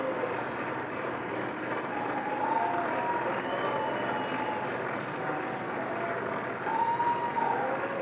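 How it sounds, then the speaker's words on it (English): Sustained applause from a large audience in the House chamber at the 2026 State of the Union, a steady, even roar of clapping throughout, heard at some distance without any talk. "He's gotta give him a second so they can all clap for him."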